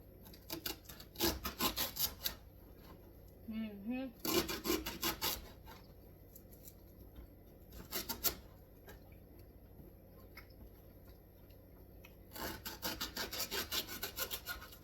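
A knife cutting vegetables for fermenting, chopped into roughly inch-long pieces, giving bursts of rapid rhythmic chopping and scraping against a board, separated by quiet pauses.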